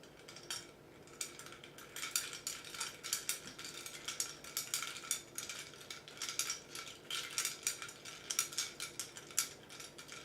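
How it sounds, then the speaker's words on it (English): A spring cocktail is stirred close up, ice clinking and rattling against the glass in quick, continuous bursts that swell and fade in an uneven rhythm. "And now we stir."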